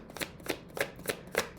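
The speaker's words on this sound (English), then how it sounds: "All right, so let's give this deck a quick shuffle." A gilded tarot deck is shuffled in five quick crisp riffles, each a short papery burst close to the microphone, with no talking.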